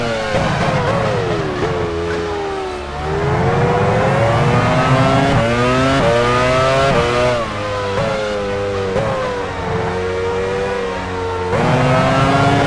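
F1 race car engine in the pit lane in the racing game F1 Challenge 99-02, at Hungary's Hungaroring in the 2000 season: a loud, close, high-pitched engine whine climbing and dropping through repeated rev changes and gear shifts with no speech.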